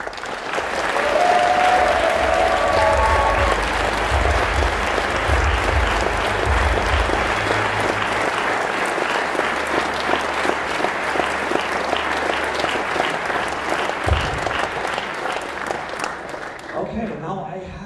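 Sustained audience applause for puppeteers at a private preview, loud and dense clapping that carries on for most of the stretch, with a voice briefly speaking early on, before it fades near the end.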